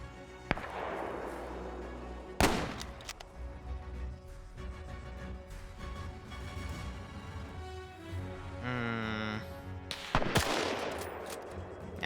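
Gunfire in a WW2 shooter game, scattered loud sharp shots and short bursts with echoing tails spread across the stretch, separated by quieter ambient gaps.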